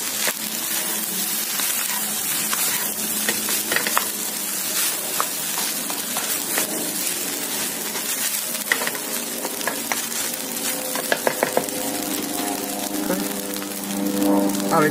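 Chicken fried rice with spring onions is stir-fried in a wok, Chinese restaurant style. A constant crackling sizzle runs under repeated metallic scrapes and clanks of the spatula, close and lively, with a cluster of sharp knocks near the end.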